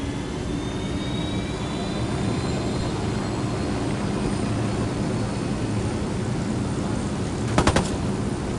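Aircraft engine in the video game Ghost Recon, a steady loud roaring drone that fills the whole stretch, with a few brief clicks near the end and no talk.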